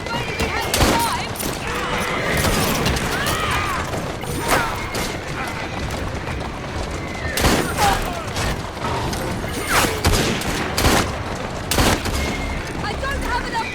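Rapid bursts of gunfire and mechanical weapon clatter from the video game Assassin's Creed Syndicate, repeated sharp cracks over a busy action scene with shouting voices mixed in.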